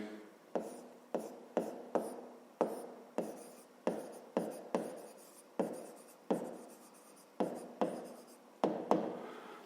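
Handwriting close up, probably pen on paper while working a fifth-grade geometry exercise: a quick series of about twenty separate short strokes and scratches in an uneven rhythm, quiet and alone with no voice.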